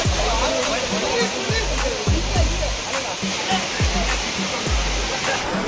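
Donne waterfall in Karnataka sends up a constant, loud roar of rushing water, with repeated low thumping buffets close to the microphone.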